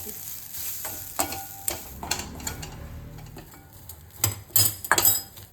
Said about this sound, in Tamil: நம்ம துருவி வச்சுருக்கிற தேங்காவை நல்லா கைவிடாமல் செவக்க வறுக்கணும்